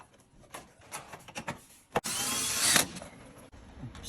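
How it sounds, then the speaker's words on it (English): A power drill drives a screw into steel lap siding, sounding as one loud, steady whir of under a second near the end, with scattered handling clicks and knocks before it. "Screwing in the last piece here."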